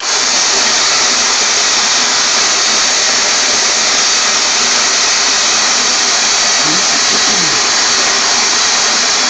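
An EM480 coffee grinder grinds coffee beans with a loud, steady motor whir that holds unbroken and even for about nine seconds, with no voices.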